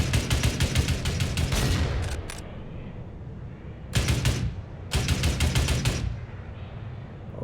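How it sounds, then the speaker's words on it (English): Tripod-mounted gun firing from the back of a vehicle in a video game: loud, rapid automatic bursts of sharp shots, three main volleys separated by short pauses, close and unaccompanied by talk. "he's got a guy on the back shooting a tripod at us"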